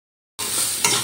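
String beans crackle and sizzle in hot oil in a wok after a silent start, a loud close hiss with a sharp scrape of stirring partway through.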